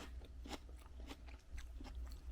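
Close, quiet bites and crunchy chewing of Norwegian rakfisk fermented fish, a few distinct crisp crunches spaced irregularly over a couple of seconds, with no talking.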